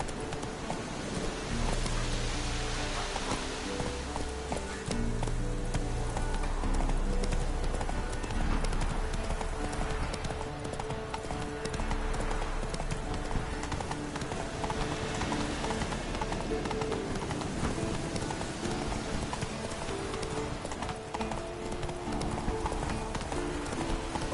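A horse gallops in a PS4 video game, steady rhythmic hoofbeats running continuously under a dense layer of game music and ambience, moderately loud throughout.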